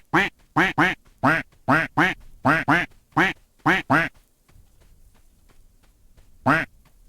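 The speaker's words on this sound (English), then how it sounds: "Now that you can quack before shooting the ducks, you have to as well because that's what they do." Ducks quack in the video game Escape from Duckov, a rapid run of about a dozen loud, close quacks, then a pause before one final quack.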